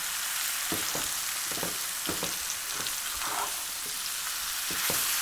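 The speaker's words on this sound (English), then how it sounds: "allow it to sear on the highest possible flame" Mutton coated in a spice blend sears over a high flame in a steady, loud sizzle and crackle, broken by occasional stirring scrapes and pops.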